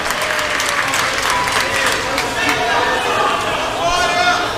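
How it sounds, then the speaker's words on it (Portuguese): Church congregation applauding during an evangelical service, dense continuous clapping throughout with a preacher's voice speaking over it. "Toma o seu assento aplaudindo a Jesus, porque Ele é bom"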